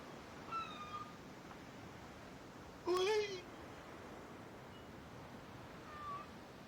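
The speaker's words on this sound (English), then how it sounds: "Someone lay hands on that cat." A house cat meows once, clearly and fairly close, over a low steady background hum, with faint fainter mews before and after.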